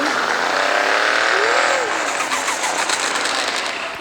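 A 635 hp car revs loudly and steadily close by, one rising-and-falling engine sweep standing out, with a voice talking over it.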